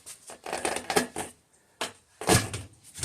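A car tire bead releasing from its rim on a Honda Goldwing motorcycle gives two bursts of crunching, creaking rubber with a quiet pause between them, nearby.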